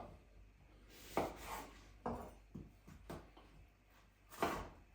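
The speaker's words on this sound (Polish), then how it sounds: "Cebulę kroję w pół plastry." A knife slicing a red onion into half rings on a cutting board: a series of distinct, irregular chopping thuds, close and moderately quiet, with faint rustling between cuts.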